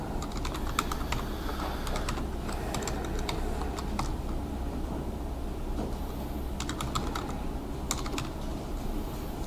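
Clusters of computer keyboard keystrokes as a command is typed and Enter is pressed, quick bursts of close clicks separated by pauses over a steady low hum, no talking.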